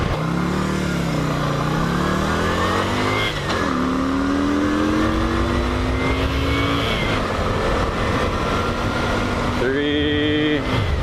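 A 2003 Yamaha XV250 Virago motorcycle engine revs up through the gears, its pitch climbing in steps with brief drops at each shift, loud and close throughout with a final rising burst near the end.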